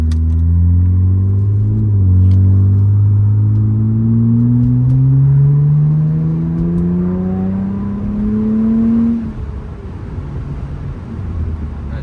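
Acura TL with a custom cutout valve exhaust, heard from inside the cabin while cruising city streets: a loud, deep droning exhaust rising in pitch through gear pulls, then dropping back to a lower hum near the end.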